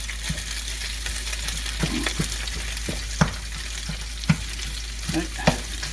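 Minced beef for a cottage pie fries in a pan with a steady sizzle while a spatula scrapes and knocks through it, breaking it up, with several sharp taps against the pan standing out.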